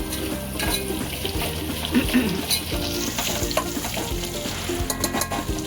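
Grated coconut and chana dal sizzle in hot oil in a pan for chivda, with frequent clattering stirs and scrapes of a spoon over a continuous frying crackle, close and without speech.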